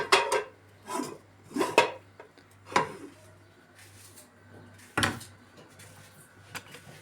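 Dishes and cutlery clatter in a series of sharp clinks and knocks as a dinner table is set, irregularly spaced and fairly close, with a low hum underneath.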